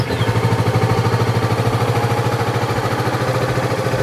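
A Kawasaki Vulcan S 650 motorcycle engine idles steadily up close while warming up, with an even, rapid pulsing throb and no revving.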